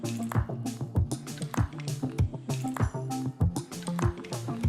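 Soaked basmati rice being gently stirred into a cooked vegetable mixture in a pot, giving soft wet squishing and dripping sounds with light clinks from a spoon, in a steady close rhythm with no talk.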